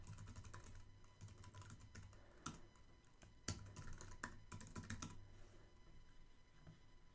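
Someone types a terminal login command on a computer keyboard. The keystrokes come as quiet, close clicks in quick irregular runs, with a few louder taps and short pauses between them.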